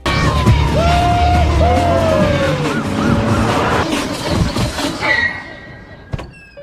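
A car driven hard skids: loud engine roar and rising tire squeals up close, fading into rattling noise, then a sharp thud near the end.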